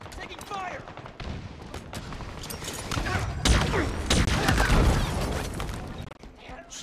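Gunfire during a Halo Infinite multiplayer match on the Bazaar map, rapid bursts and crackling shots that swell louder midway, mixed with game voice callouts and impact noises.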